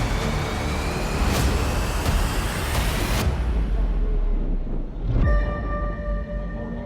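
Volkswagen Polo race cars in an Astron Energy Polo Cup race at Extreme Festival 2024 set off from the start in a loud, dense roar of engines, with a sharp shift as one car's revving whine rises close by.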